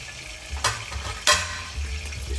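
Sweet and sour fish being stirred in a pan just after vinegar goes in, with two sharp scraping strokes over a steady low sizzle and no talking.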